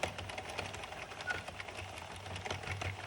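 An Addi knitting machine clatters through rows with a fast, even plastic ticking, moderately close and heard alone.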